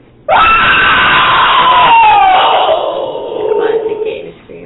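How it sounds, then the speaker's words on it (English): A creature in the Wheel of Time TV series, a nun-hooded figure with worm-like hair, lets out a sudden loud piercing scream that bends downward and fades over a few seconds. "And then you hear this scream."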